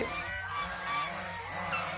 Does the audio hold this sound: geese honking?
yes